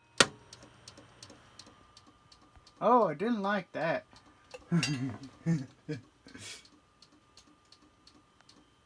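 A Compaq desktop computer with a suspected hard drive fault ticks with regular faint clicks throughout, while someone speaks briefly in the middle, his voice clearly louder than the quiet steady clicking.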